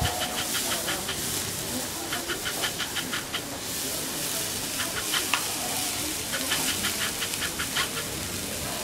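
Onions sizzling in a hot pan, a steady close frying hiss with bursts of crackle and occasional stirring scrapes, continuous throughout with no talk over it.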